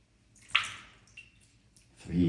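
Water pours briefly over a small baby Buddha statue in a ceremonial bathing, a short splashing trickle followed by quieter drips, with a voice speaking at the end.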